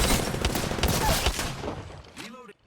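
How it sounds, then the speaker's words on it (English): Rapid bursts of gunfire ring out in the Apex Legends battle royale shooter, dense and loud for about two seconds before tailing off into a short electronic whine as the shooting stops. "Shots fired, and they're hitting me."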